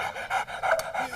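A dog pants rapidly and close by in quick, rhythmic breaths, with no voices over it.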